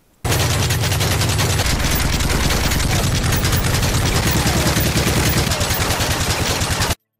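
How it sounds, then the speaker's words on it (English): Loud, rapid automatic gunfire from the Call of Duty Black Ops video game rattles on without a break for about seven seconds, with dense, even shots and a slight change in tone partway through. "the sound effects are strikingly similar to every gun"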